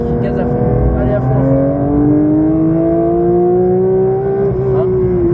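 Race car engine at full throttle on the Dreux circuit, a loud, steady close-up roar whose pitch climbs smoothly as the car accelerates, with an instructor's voice speaking over it.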